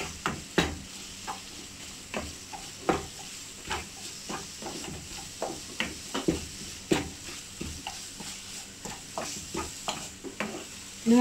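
Fish masala stirred in a hot pan for Kerala fish pollichathu, with repeated scraping strokes of a spoon over a soft, steady sizzle, each stroke a distinct knock, no talking.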